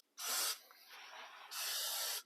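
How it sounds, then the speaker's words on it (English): Aerosol spider spray hisses in two long bursts under the bed of a 1985 GMC Sierra pickup, loud and close, with a quieter steady hiss between them. "Let's spray some spidey stuff under here."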